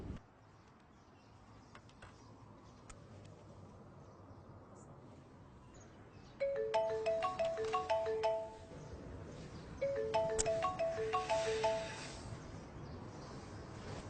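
A mobile phone rings for an incoming call, playing a bright melodic ringtone in two repeated bursts over quiet room hiss, fairly soft and near.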